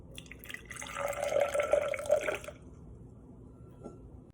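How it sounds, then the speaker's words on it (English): Red cabbage water poured into a glass, a short trickling splash lasting about a second and a half before stopping, followed by a faint drip, quiet and close with no voices. "Pour your cabbage water into this glass and only use a little bit of it."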